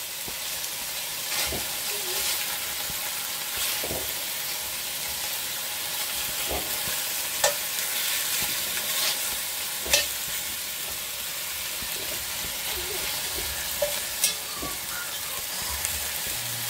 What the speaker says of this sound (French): Donc là, on fait bien revenir surtout